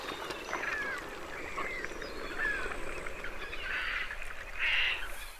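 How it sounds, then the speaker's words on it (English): Hundreds of gulls, cormorants, Dalmatian pelicans, herons and egrets fishing together on Lake Kerkini give a busy chorus of honking and squawking calls over a constant background murmur, some calls nearer and louder than others. "Hundreds of gulls, cormorants, pelicans, herons, and egrets collectively fishing on the lake."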